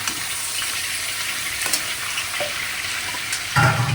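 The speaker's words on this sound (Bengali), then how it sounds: "আলুর সাথে হালকা করে আমি চিংড়ি মাছটাকে ভেজে নেব" Prawns frying with potatoes in a pan, a steady close sizzle with occasional stirring scrapes and a louder burst of crackling near the end.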